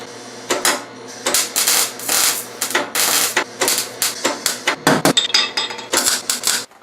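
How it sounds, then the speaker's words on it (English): Tack welding a metal fender flare onto an R32 Nissan Skyline sedan during a DIY rust repair and drift build: short bursts of crackling, buzzing weld arcs, repeated in close, loud spurts with brief pauses between. "I think I'm about as ready as I'm gonna get to weld on the fender flare. I'm just gonna get it tacked on,"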